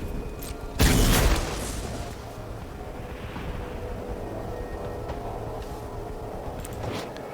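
In MTG Arena, the Skull Bomb card effect lands as one abrupt, loud burst that fades into a long, low rumbling wash.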